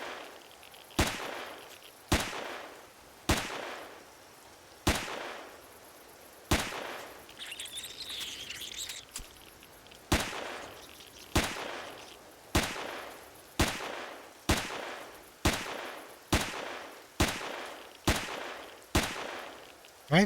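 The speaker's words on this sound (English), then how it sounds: "Alright, now we gotta shoot down the hallway here." Sci-fi weapon fire echoes down a hallway in the video game Empyrion Galactic Survival, with sharp single shots repeating at a steady pace of roughly one per second, each cracking then decaying, and a brief electronic warble in between.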